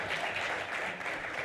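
An audience at a church livestream applauds in a short, steady burst of dense clapping, moderately loud and unbroken.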